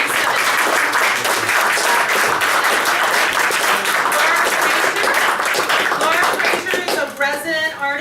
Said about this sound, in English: give a great big round of applause to our host